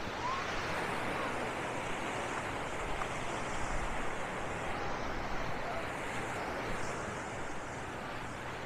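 Ocean waves wash onto the beach at Punta Xcalacoco, Playa del Carmen, a soft continuous surf hiss from a distance with gentle swells and light wind.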